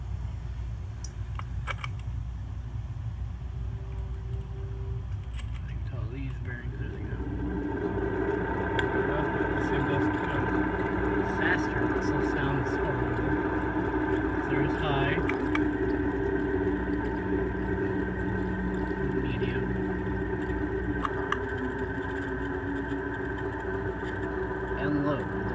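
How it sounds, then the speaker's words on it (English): A ceiling fan disc motor with worn bearings runs steadily, a low hum and whir that grows fuller after a few seconds, with faint ticks and rattles scattered through it and a person talking over it. "This is the disc motor."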